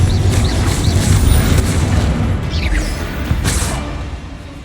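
Confringo spell blasts in the Hogwarts Legacy video game: a dense, continuous run of booming explosions and whooshing magical bursts, loud and close, with no talk.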